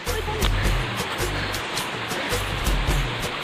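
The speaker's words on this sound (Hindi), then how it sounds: "बहुत ऊँचा ही ऊँचा ही है, नीचे से झरना गिर रहा है" A broad, steady rush of falling water from a high waterfall fills the clip, with low rumbling thumps like wind or handling buffeting the microphone. No voices are heard.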